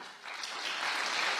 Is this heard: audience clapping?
yes